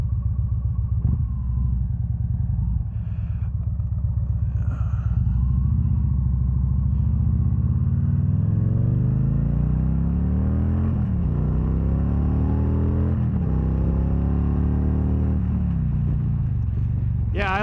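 A 2013 Victory Cross Country Tour motorcycle engine revs and accelerates through several rising gear pulls, loud and close amid steady wind rumble, with brief voices in the background.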